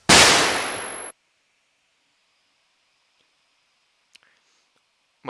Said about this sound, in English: What about flashbang.mp3? Throwing a flashbang.